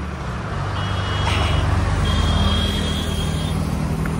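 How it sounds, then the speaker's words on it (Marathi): Heavy road traffic on the Bhor Ghat (Khandala Ghat) highway in Maharashtra, heard from above: a steady, loud rumble of cars and trucks with faint high beeps drifting through. "जबरदस्त ट्रॅफिक दाखवतो तुम्हाला खाली."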